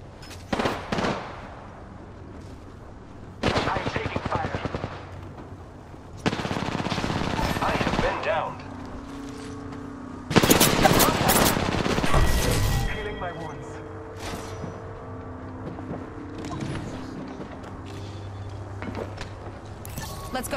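Enemy gunfire in Apex Legends: several loud bursts of rapid automatic shots at close range, separated by short lulls, with impacts and game effects mixed in and a voice speaking at times.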